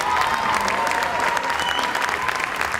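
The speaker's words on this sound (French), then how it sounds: "On l'applaudit bien fort, s'il vous plaît, ça s'appelle Blondie." Warm, steady audience applause for a dancer at a dance class showcase, a continuous wash of clapping from a crowd with faint voices underneath.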